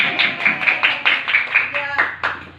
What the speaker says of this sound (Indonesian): Yeay, kita beri tepuk tangan.